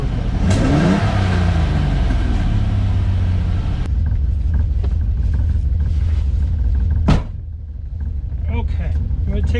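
A silver Ferrari 400GT's engine runs loud and close, with a deep rumble and rising revs in the opening seconds, then settles into an idle with some sharp clatter and a brief bang near the end.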